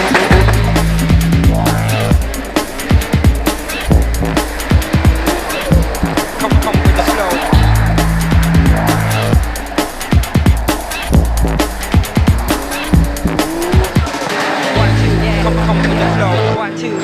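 A $300,000 Z-Tune Nismo R34 GTR driven hard at a 2006 rally event in Dutton, Victoria, its engine roaring and surging with brief tyre noise, loud and continuous under a steady musical background.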